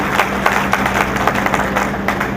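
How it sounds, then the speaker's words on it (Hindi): Audience applause for Neha Didi after a poem at the Gau Kai Sammelan gathering in Hyderabad, 2014: a dense, steady wash of many hands clapping together at even loudness, with a faint low hum underneath. "कविता अच्छी लगी हो तो एक बार नेहा दीदी के लिए जोरदार तालियां"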